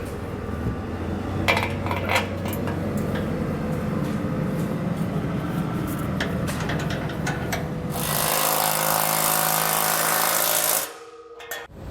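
Bolts and nylon lock nuts being secured on a Blue Ox base plate for a 2021 Ford Ranger, with steady metallic rattling and clicking of tools, then a louder whirring power-tool burst that cuts off near the end.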